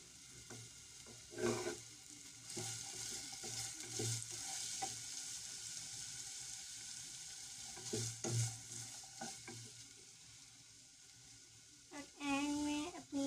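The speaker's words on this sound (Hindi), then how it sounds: "इसके बाद इसे भी फिर हम थोड़ा सा चला लेंगे।" Samosa filling with capsicum sizzles steadily in a pan while being stirred, with a few louder scrapes and clinks of the spoon against the pan and a short bit of speech near the end.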